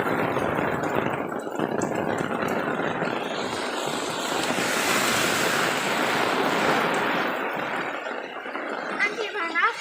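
Heavy rain with strong winds during a signal no. 3 storm makes a loud continuous roaring wash close to the microphone, with voices faintly audible underneath.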